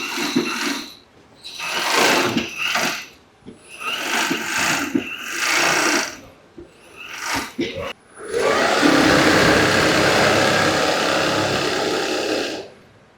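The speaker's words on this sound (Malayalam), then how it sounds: "ഇത് ടേബ്രിഡ്ജ് മെഷീൻ ആണ്." A mattress tape edge sewing machine runs loudly in a mattress factory, with bursts of stitching that give way to a long continuous run. A voice talks over the earlier bursts.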